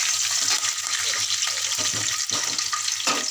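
Garlic cloves with a little salt sizzle and crackle steadily in a hot pan while being stirred, with scraping bursts of the spoon rising over the constant frying hiss, close and fairly loud.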